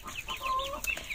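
Marans and Green Shell hens cluck softly at close range, a quick run of short clucks and murmurs with a brief higher call, no voices present.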